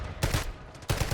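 Cypher 091 rifle firing in Black Ops 6, two short bursts of rapid shots, loud and close, separated by a brief quieter gap.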